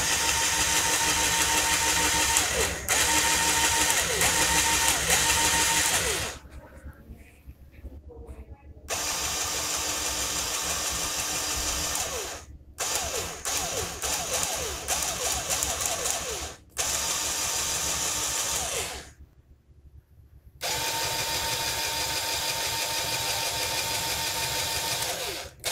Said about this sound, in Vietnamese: mình đã chế xong cái chiếc máy lắc xu của Shopee này rồi